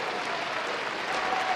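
Brief, dense audience applause, a steady wash of clapping throughout.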